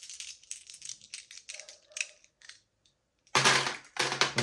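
Glass marbles rattle and clatter against each other in a collection, first as a run of quick clicking bursts, then after a short pause as two louder, denser rattling bursts close by.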